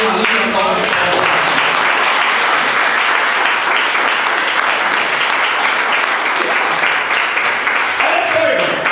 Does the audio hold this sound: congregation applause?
yes